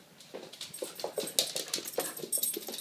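A dog whimpers close by in a run of soft, short whines and yips that keep coming in uneven bursts, with no talking.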